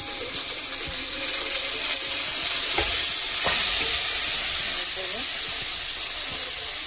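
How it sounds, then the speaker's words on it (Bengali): Chopped tomatoes hit well-fried onions in a pan for a Bengali home-cooked fish dish, giving a loud steady sizzle and steamy hiss with occasional scrapes and clinks as the mixture is stirred. "পেঁয়াজ ভাজা হয়ে গেছে ভালো করে, এবার টমেটো কুচি তুলে দিচ্ছি।"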